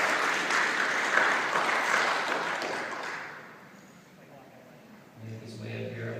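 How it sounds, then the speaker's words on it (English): An audience at a real estate seminar applauds for a presenter being called to the stage, steady clapping that fades away after about four seconds, followed by someone speaking over a low hum. "let's give a round of applause for Eric Delgado, MCM Cap."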